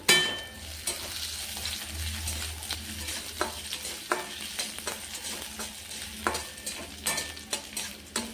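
Chopped ginger frying in oil alongside garlic for a banana-flower kofta curry, a quiet continuous sizzle punctuated by sharp clicks and scrapes of a stirring spoon against the pan.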